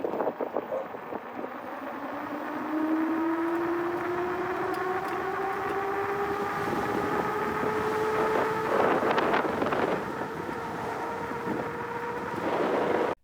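A Jasion Patrol electric dirt bike makes a top speed run, its motor whine rising steadily in pitch as it speeds up, with a rushing wind noise over the microphone throughout and no speech.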